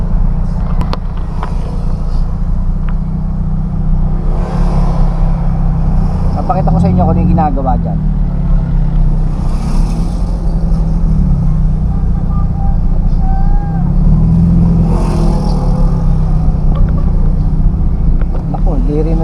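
Constant rumble of road traffic on a street still under construction, engines droning steadily throughout while someone talks over it.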